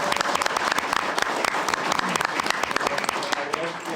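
A council-meeting audience bursts into sustained applause, dense overlapping claps filling the room steadily for several seconds, with no talk over it.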